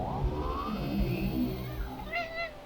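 A cat in the video game Popup Dungeon gives a short rising meow as it is killed, heard over busy game sound effects and background noise, followed by a brief wavering cry.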